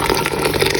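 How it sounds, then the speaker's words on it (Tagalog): Water pours steadily into a cooking pot for sinigang, a continuous close splashing fill lasting under a second with no voices. "Ngayon, add ko na siya ng water."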